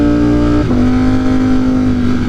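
A 200+ horsepower motorcycle engine running in cold winter conditions, a loud, close, steady drone that shifts pitch once early on and then holds.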